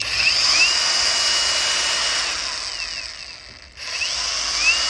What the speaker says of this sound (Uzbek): Endi bolgarkalarni ham mana оборотlarni ko'rsatib qo'yishlar mumkin.